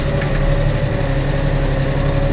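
A tractor engine idles at a pole barn build site, giving a steady, loud, low rumbling hum with an even rhythm throughout and no voices.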